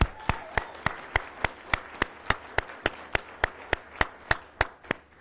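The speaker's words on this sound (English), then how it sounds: "I think deserves another round of applause" Sharp, evenly spaced claps ring out one after another in a steady rhythm, close and distinct, at a Nasdaq opening bell event honouring Newmark.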